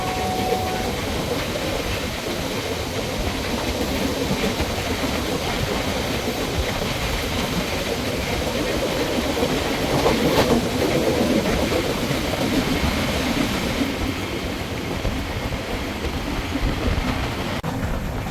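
A passenger train on the Konkan Railway runs through heavy monsoon rain, producing a continuous loud rumble and rattle of wheels and carriages with steady hiss and no break across the whole stretch.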